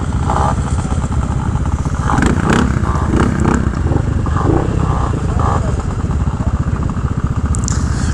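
A 2-stroke Yamaha Vino scooter pulls out from a motel amid other scooters at a group ride-out, its engine buzzing loudly and steadily up close, with voices heard intermittently over it.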